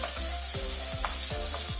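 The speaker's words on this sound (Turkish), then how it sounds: "Biberlerimi de attım, kapyalarımı. Böyle bir karıştırıyorum." Capia peppers fry in a pan for menemen while being stirred, a constant close sizzle with rhythmic scraping strokes of the spoon about every third of a second.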